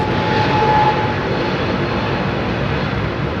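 A steady, loud roar of a jet airplane departing London Heathrow runway 27R and passing overhead, broadband and constant without pause.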